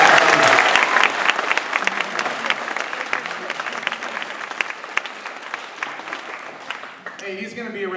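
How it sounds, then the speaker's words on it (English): Sustained audience applause fills a school assembly hall after a speaker's talk, loud and dense at first, then gradually thinning and tapering toward the end. "How about another round of applause for Jon Jorgenson?"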